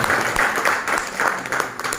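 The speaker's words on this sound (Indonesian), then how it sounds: "Tepuk tangan ayo." Audience at a distributor training event in Serang clapping together, a dense patter of hands at moderate volume with rhythmic surges across the whole span, no talk over it.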